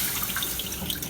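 Water for a lime syrup runs steadily into a pot or measuring cup, a continuous splashing hiss with faint dripping, close and unbroken, with no voices.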